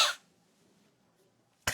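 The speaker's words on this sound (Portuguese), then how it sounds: "Deixa eu tossir de novo para vocês participarem da live." A single sharp cough at the start, then near silence, and another cough bursts in right at the end, during a livestream.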